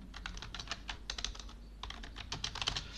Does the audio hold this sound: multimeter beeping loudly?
no